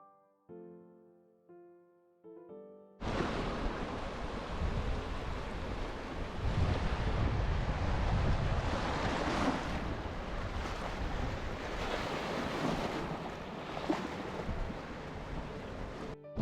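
Strong winter wind on the rocks west of a beach in the Var, France, roars steadily against the microphone, gusting in waves after a few seconds of soft tonal sound at the start.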